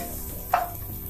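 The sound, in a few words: ginger and onion frying in a pan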